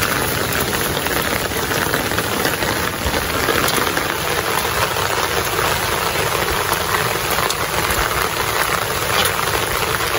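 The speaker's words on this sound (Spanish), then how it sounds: "pero así lloviendo no muy duro" Light rain falls steadily and evenly throughout, a continuous soft patter close by with a faint low engine-like hum underneath, no voices.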